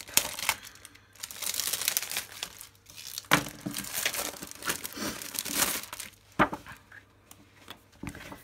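Stiff packaging crinkles and crackles as it is worked open by hand, in close, uneven bursts with a few sharp snaps between quieter handling.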